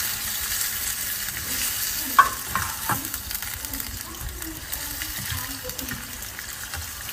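Squid with bones removed tossed into a hot pan with no added water, giving a steady close sizzle with scattered stirring scrapes and clinks, one sharp clank near the start.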